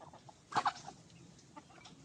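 A few quick, soft clucks from an Aseel rooster, faint and somewhat distant, over quiet background noise.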